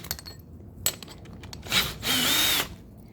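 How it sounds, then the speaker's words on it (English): A hammer drill fitted with a concrete bit runs in short bursts, with a brief spin-up followed by a longer steady high whine, close and fairly quiet with no talking. "you put it on the hammer drill."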